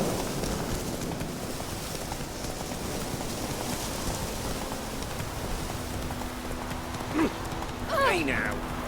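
Hoofbeats of Roach, Geralt's horse, galloping in The Witcher 3: Wild Hunt, a steady clip-clop rhythm under rain-like ambience with a few brief voice sounds near the end.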